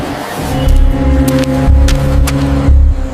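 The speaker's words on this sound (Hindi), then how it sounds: "ये किसकी गाड़ी है?" Car pulling up nearby, engine rumbling low and close with swells in revs, while a few sharp clicks and knocks punctuate the steady motor noise.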